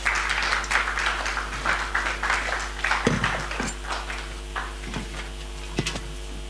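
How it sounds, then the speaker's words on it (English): Scattered applause from seminar attendees welcoming a dean as speaker, with uneven individual claps rather than a dense roar, heard over a steady low electrical hum. "Please let's welcome him with a round of applause."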